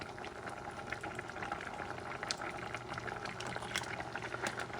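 Liquid boils in a pot during cooking for rice with salted pork and bok choy, a faint, continuous bubbling and crackling simmer with small pops, no talk.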